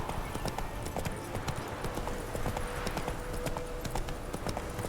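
Hooves of the horse Roach clip-clop in a quick, steady rhythm while riding in Witcher 3. A few brief whinny-like sounds rise above the hoofbeats, with muffled game ambience underneath.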